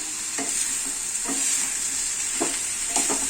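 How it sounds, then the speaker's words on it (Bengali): A steady sizzling hiss from a pot of chicken stew with potatoes and carrots, punctuated by a few soft scraping stirs at regular intervals, close and moderately loud with no voices. "একটু ভালো করে আমি নাড়াচাড়া করে নিচ্ছি"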